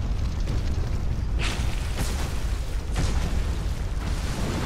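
Heavy explosions in the video game Dark Souls 2 go off as two or three deep booming bursts with crackling tails, rumbling over a constant low background roar.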